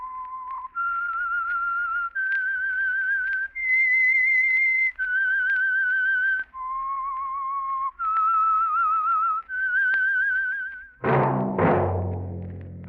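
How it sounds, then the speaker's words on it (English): A lone whistler performs the signature melodic theme of The Whistler radio show, a series of clear sustained notes stepping up and down with slight vibrato, followed by a sudden orchestral chord. "That whistle is your signal for the Signal Oil Program, The Whistler."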